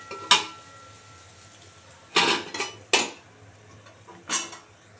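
A lid goes back onto a cooking pan of vegetable curry on a gas stove, giving a few sharp, close metallic clanks and clinks spaced apart against a quiet kitchen background.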